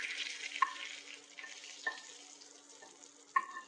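Curry leaves in a hot tempering stirred into chutney give a faint, steady sizzle, broken by a few sharp pops and crackles.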